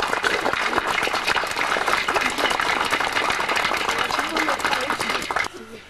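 Dense, continuous applause fills the space at a 1999 statue blessing in Ramsau, honouring the initiative and the donor of the Engelbert Kolland statue. The sound holds steady before cutting off abruptly near the end.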